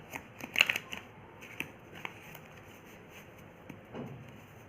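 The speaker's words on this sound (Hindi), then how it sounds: "मैं कार्ड को वन टाइम और शफल कर लेती हूँ।" Tarot cards being shuffled by hand, a soft cluster of riffling flicks near the start followed by a few scattered light card taps, close and quiet with no talking.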